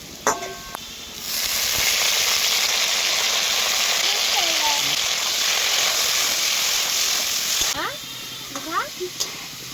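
Bitter gourd (karela) hits hot oil in a pan and sizzles loudly and steadily for several seconds, broad and close, then quiets as stirring begins, with faint clinks and a voice speaking before and after.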